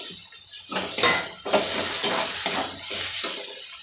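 Water is poured into a pan of frying masala with two chopped medium tomatoes for a tomato curry, a loud hissing sizzle with stirring and clinks of a utensil against the pan, close up.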